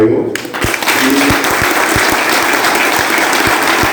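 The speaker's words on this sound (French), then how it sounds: "Applaudissements pour tout le monde." Loud, dense audience applause at a French-language church service, sustained clapping from a crowd with a few sharp low thumps scattered through it, filling the space for several seconds.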